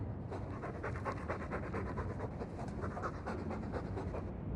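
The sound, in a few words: dog panting in a video game, Dragon Age 2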